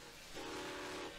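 Vintage 1923 steam locomotive number 4960 of the Grand Canyon Railway, running on recycled vegetable oil, sounds a steady whistle lasting under a second over a continuous rumble of rolling train noise.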